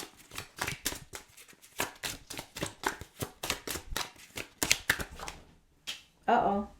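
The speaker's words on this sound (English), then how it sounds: "We're going to pull one more card from this deck." A tarot deck is shuffled up close in a long run of rapid, crisp card riffles and slaps, and a person talks during the shuffling.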